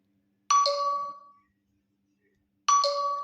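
Two bright chime notifications ring out from a Xiaomi Mi 10T phone, each a quick two-note ding that rings and fades, separated by about two seconds of silence.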